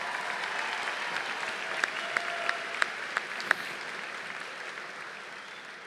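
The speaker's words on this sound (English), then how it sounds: "how about one more round of applause for our ROTC color guard and our national anthem singer" Steady applause from a large high school commencement audience fills the clip, with a few sharp, louder claps standing out near the middle and no voices.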